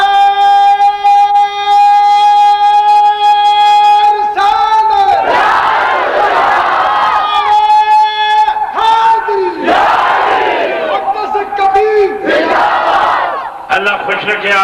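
A large crowd bursts into a loud chanted response to the Takbir slogan at a religious gathering, with several surging roars of massed voices alternating with sustained musical tones.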